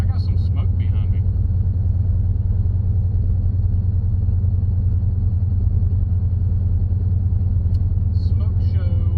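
A 2006 GMC Envoy with an LS engine swap rumbles heavily while driving with a bad tire or wheel bearing, loud steady low drone inside the cabin, with faint brief sounds near the end.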